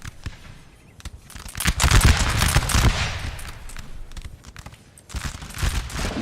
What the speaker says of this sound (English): Just firing constantly.